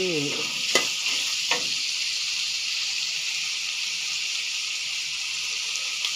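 Broccoli stir-frying in a pan, a steady bright sizzle held close and constant, with a couple of sharp clinks from the spatula early on and no talking.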